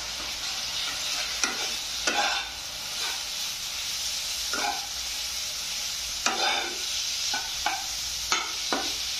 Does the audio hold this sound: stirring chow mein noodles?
yes